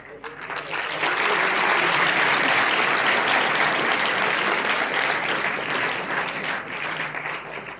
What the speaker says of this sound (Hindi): अब एक बार ताली और बजानी पड़ेगी।